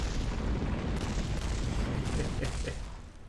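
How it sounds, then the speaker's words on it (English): A sustained deep rumbling roar of video game explosions, dense and booming with a few sharper bursts, gradually fading at the end. "those are just the first set of explosions"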